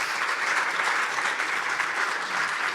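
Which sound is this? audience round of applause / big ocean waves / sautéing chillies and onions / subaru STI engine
audience round of applause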